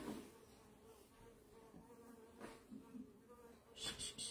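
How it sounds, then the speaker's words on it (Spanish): A large wasp trapped indoors gives off a faint, steady insect buzz that wavers in pitch and swells briefly louder near the end. "Se metió una super avispa."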